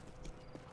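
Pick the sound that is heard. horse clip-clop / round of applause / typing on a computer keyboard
horse clip-clop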